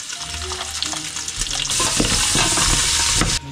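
Garlic and ginger sauté in a pan with a close, steady sizzle and stirring scrapes that swell into a louder hiss partway through before cutting off abruptly.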